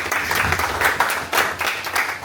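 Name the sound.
audience applause for the ambassador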